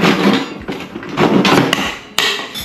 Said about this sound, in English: this fine-tooth Japanese saw will make a really nice PVC cut